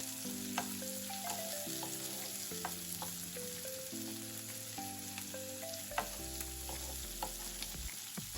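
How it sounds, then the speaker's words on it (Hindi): Finely chopped onions and cumin fry in a pan for a dry spiced potato dish, a soft, even sizzle with occasional light stirring clicks, sitting low beneath prominent background music. "अब इस पे हम बारीक कटे हुए प्याज डाल देंगे और प्याज को हम यहाँ पर हल्का सा गोल्डन ब्राउन होने तक अच्छी तरह से भून के तैयार कर लेंगे"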